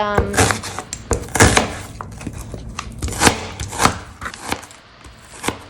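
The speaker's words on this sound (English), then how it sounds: "here we go, chopping up some onions" A knife chops onions on a cutting board, a string of sharp, uneven taps close by, some louder than others.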